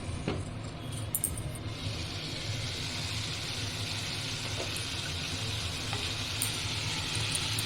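Cauliflower curry being stirred in a pan on the stove, a soft continuous sizzle with scraping of a spoon against the pan, steady and moderately quiet, with a few brief clinks near the start.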